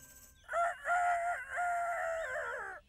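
A cartoon rooster crows a long, drawn-out cock-a-doodle-doo, loud and close, with no other sounds around it.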